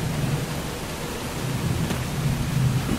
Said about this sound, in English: Mate, this thunder is so loud.